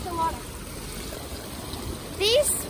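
Water flows in an outdoor sculpture-garden fountain with four statues, a steady soft trickling stream under people talking, including a voice.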